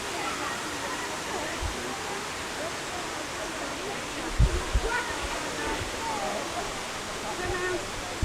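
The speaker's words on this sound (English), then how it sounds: "There's that big there's the big waterfall we just went past." A big waterfall in the Eden Project's hot rainforest biome gives a steady, broad rushing hiss heard from a distance, with a few soft thumps of nearby movement.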